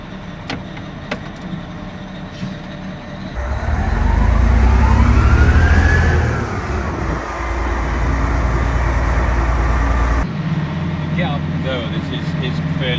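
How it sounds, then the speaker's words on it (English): Old V12 engine of a 730-horsepower Cat dump truck in a quarry, a loud, deep rumble that swells and holds with a rising whine on top, then drops back, with someone talking over it. "Just listen to that old V12."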